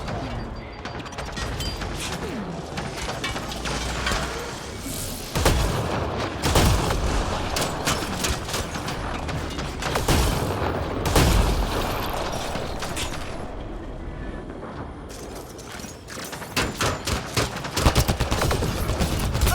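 Sustained gunfire fills a Mass Effect: Andromeda firefight, with dense bursts of automatic weapons, sharp single shots and booming impacts in continuous loud layers and no pauses.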